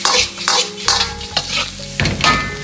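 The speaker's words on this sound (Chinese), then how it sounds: "快速的翻炒均匀，让香味和辣味相互融合。" Chicken and pork intestines with chili are stir-fried in a wok, with loud sizzling and rhythmic scraping tosses of the spatula repeating about every half second.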